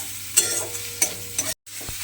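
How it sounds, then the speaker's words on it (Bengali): Garlic, ginger and onion spice paste sizzles steadily in a pan while a spoon stirs it with three sharp scraping strokes and a brief pause between. "এবারে একটু মশলাটাকে নেড়ে চেড়ে ভাজা ভাজা মতো করে নেব"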